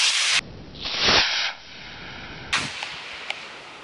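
Model rocket launching outdoors on a winter day: a loud rushing whoosh of motor exhaust lasting about a second, then fading into faint wind and a few light ticks.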